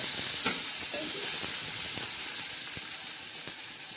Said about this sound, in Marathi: मस्तपैकी फ्राय करून घ्यायचं आहे.